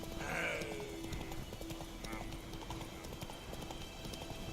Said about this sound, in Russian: Давай, конь мой вороной. Поскакали, плотва, скорее.